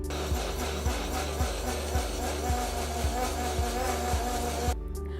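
A kitchen blender whirs steadily through a chicken marinade, a loud close motor drone with a regular pulsing thump about twice per second, cutting off abruptly near the end.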